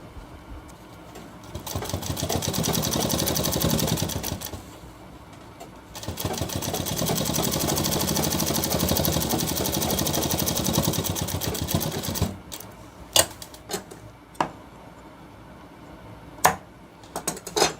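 A sewing machine stitches around a shirt cuff in two long, steady runs of fast mechanical whirring, followed by a quieter stretch with a few sharp clicks and taps.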